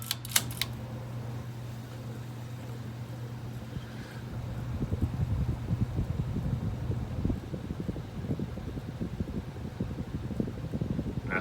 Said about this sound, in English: We're going to power it back up here so you can see how the motor runs.